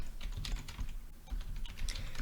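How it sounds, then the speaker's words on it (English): Fast typing on a computer keyboard, a close, clattering run of key presses in irregular bursts with a brief pause midway, heard alone without speech. "I'm typing in the link."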